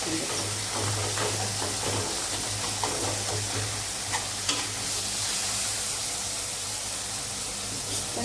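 Chopped tomatoes sauté in oil with onions in a pan, a steady close sizzle and hiss with frequent stirring scrapes and soft clicks of a spoon, a voice faint in the background.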